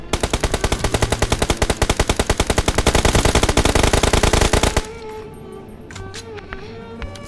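Rapid automatic gunfire from a shooting video game rattles loud and close in a long, evenly spaced burst for almost five seconds, then stops, leaving faint game sounds behind.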